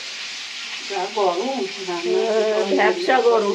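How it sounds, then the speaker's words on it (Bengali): Pomfret fish fries in a pan with a steady sizzling hiss running through the clip, partly under a voice speaking nearby. "পমফ্রেট মাছ ভাজা বসিয়েছে"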